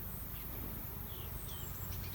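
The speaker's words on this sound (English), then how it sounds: "filled with bees" Bees and other insects buzz around a flowering bramble in a summer nature setting, a steady faint hum with occasional bird chirps high above it.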